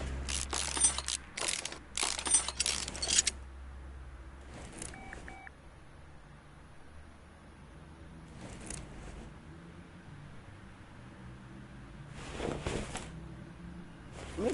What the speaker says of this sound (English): I'm gonna take that steering rack off